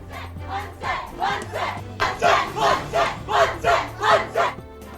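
MNS party workers celebrate inside a police station as a crowd chants a rhythmic slogan, with loud regular shouted bursts about twice a second that grow stronger toward the end.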